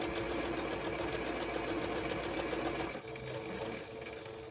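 A sewing machine runs steadily, stitching a quarter-inch seam on a triangle piece of a Variable Star quilt block, then its pitch dips and the motor slows near the end.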